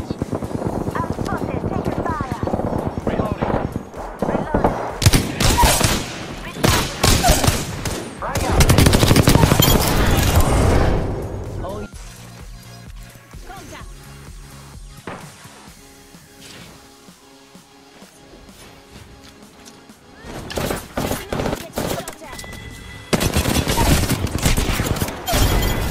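Rapid automatic gunfire in the Apex Legends shooter game, loud dense bursts of sustained fire broken by quieter stretches of scattered shots and game effects, with a player talking over it.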